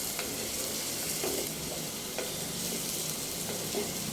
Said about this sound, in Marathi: आता आपण याला चांगल्यापैकी हलवून घेऊया